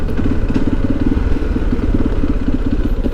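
A motorcycle engine running close by, a continuous rough, throbbing rumble with a rapid pulsing beat and some clatter, steady and loud from start to finish.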